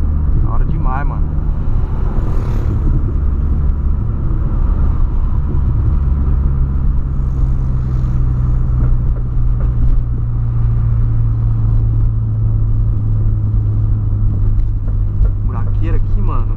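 A 2008 Volkswagen Polo driving over a badly potholed road, its engine and tyres giving a steady low rumble heard from inside the car, with someone talking over it almost the whole time.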